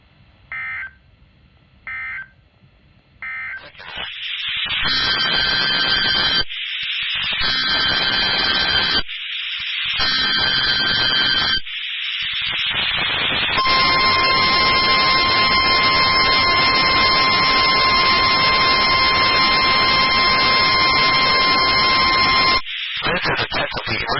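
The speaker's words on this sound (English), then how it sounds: "Emergency alert system in NOAA Weather Radio's warning alarm." An NOAA Weather Radio emergency alert sequence: three short bursts of harsh digital data tones, then a long, loud, steady warning alarm tone that holds for several seconds before cutting off.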